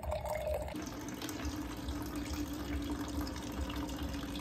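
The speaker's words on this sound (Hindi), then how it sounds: "ये नल खोल के ऐसे पानी भर लो भाई" Water gushes steadily from a tap into a container, a continuous splashing stream whose pitch shifts slightly as it fills; no talking.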